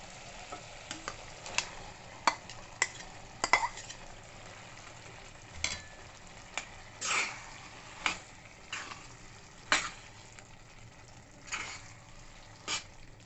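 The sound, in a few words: stirring boiled dal into cooked tomatoes in a pan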